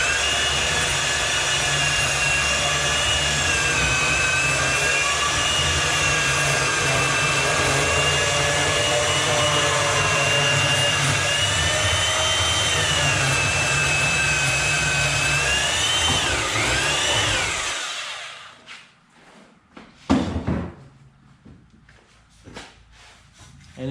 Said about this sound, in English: I'm gonna go ahead and make this cut using my porta band